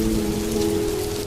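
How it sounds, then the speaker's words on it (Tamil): Rain falls steadily in a dense, even patter over a low constant hum, with no voices in this short moment. "இந்த மழை வர வந்துட்டே இருக்குதுடா."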